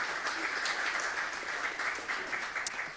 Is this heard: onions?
no